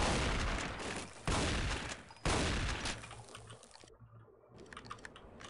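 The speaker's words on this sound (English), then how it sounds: "This seems like a job for a shotgun." Shotgun blasts in the video game Half-Life: two loud, sharp broadband bursts about a second apart, each with a short decaying tail, followed by quieter clicks and rattles.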